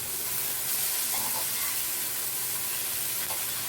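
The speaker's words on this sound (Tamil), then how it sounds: "இப்போ இந்த நெத்திலியை இந்த எண்ணெயில் அப்படியே ஒன்று அடிக்கலாம்." Anchovies (nethili) fry in oil on a tawa with a steady, dense sizzle and hiss throughout, close and continuous, broken only by a few faint crackles.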